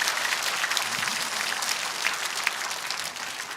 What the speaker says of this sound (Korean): 조영호 장군님께도 감사의 박수를 보내주시기 바랍니다